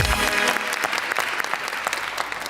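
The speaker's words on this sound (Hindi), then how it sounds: "तालियां यार" Loud, dense applause from a talk-show studio audience fills the space, many hands clapping at once and holding steady for a couple of seconds before easing slightly.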